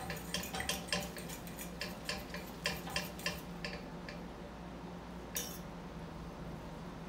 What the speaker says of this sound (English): Now I'm going to stir it well